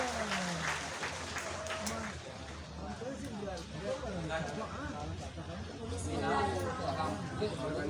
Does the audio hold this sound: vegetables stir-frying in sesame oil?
no